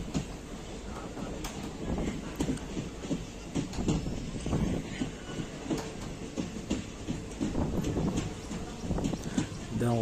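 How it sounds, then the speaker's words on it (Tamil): Rattling, clattering rail noise with rhythmic clicks, a train moving at Oddanchatram railway station in Tamil Nadu, with some faint voices mixed in. "இதுதான் ஒட்டன்சத்திரம் ரயில்வே ஸ்டேஷன்."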